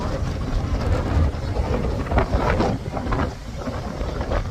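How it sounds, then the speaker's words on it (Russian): Strong wind buffets the microphone in a constant heavy roar on a narrow street in York, England, gusting louder at moments, with no voices over it. "Очень сильный ветер"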